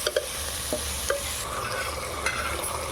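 Home-sprouted grains are stir-fried in a pan, with a low crackling sizzle under repeated sharp scrapes and taps of a spatula against the metal, close and uneven in rhythm, without talk.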